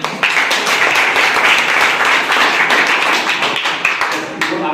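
Audience at a school Independence Day celebration claps steadily throughout, a dense, continuous patter of many hands with some voices mixed in.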